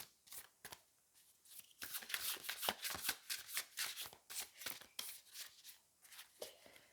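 Paper oracle cards are shuffled up close in a fast run of crisp riffles and papery slaps, with brief gaps between bursts and no talking.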